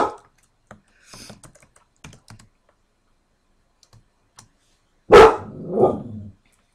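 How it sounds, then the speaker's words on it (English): A dog barks close by, a loud burst followed by a shorter second bark, after several seconds of light keyboard typing and clicking in a quiet room. "Sorry about my dog."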